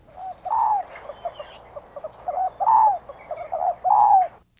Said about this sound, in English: You know what an emu sounds like?